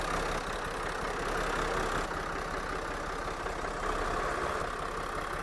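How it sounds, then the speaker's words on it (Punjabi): A modified Massey Ferguson 1350 tractor diesel engine, rated around 55 horsepower, idles steadily with a low, even chugging rumble that runs unbroken and fairly close throughout, with no voices. "ਇਹਨਾਂ ਦੀ ਇਹ ਟਰੈਕਟਰ ਹੈ ਜੀ ਮੈਸੀ ਫਰਗੂਸਨ 1350"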